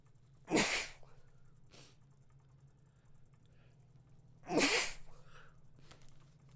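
Two loud, close sneezes about four seconds apart, each a sharp broadband burst that fades quickly, over a steady low hum and faint keyboard clicks during a tabletop game design session.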